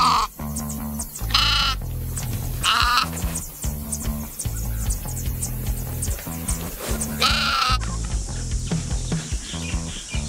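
Sheep bleat again and again, several loud, wavering calls overlapping and close by.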